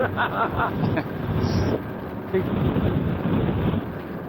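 Blustery wind buffets the microphone on a motorway ride, a continuous low rumbling roar with gusty swells, under a brief murmur of voices.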